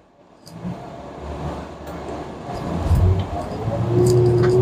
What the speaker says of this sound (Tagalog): So una nating susubukan yung acceleration niya.